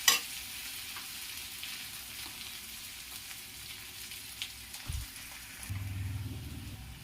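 Onions fry in a pan on a low gas flame, giving a soft, steady sizzle, with occasional stirring knocks and a low rumbling scrape near the end; no speech.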